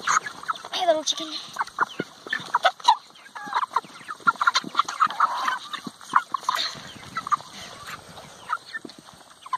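Meat chickens and roosters being gathered at a farm before a county fair cluck and squawk in a busy, irregular chorus close by, with faint voices now and then.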